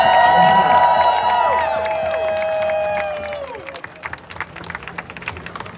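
Large crowd at the No Kings Day rally in Atlanta, October 2025, cheering with rising whoops and applause that swell loudly, then fade into scattered claps and shouts.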